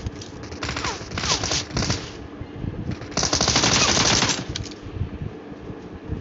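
Automatic gunfire on the Erangel map of the PUBG video game comes in rapid bursts, with loud rattling volleys and a longer sustained burst near the middle, heard alone without voices.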